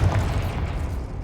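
A Confringo explosion spell goes off in Hogwarts Legacy on PS5, a single deep, loud booming burst that rumbles on briefly.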